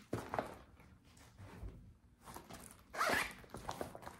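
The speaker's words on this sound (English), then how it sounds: "Then you've got a couple zipper pockets." A zipper on a purse pocket is pulled open and shut in two quick rasping bursts with a short pause between, close and fairly quiet, with no talking.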